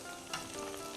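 Vegan wontons crackling and sizzling in hot oil during their second frying, a steady close bubbling hiss with small pops and no one talking.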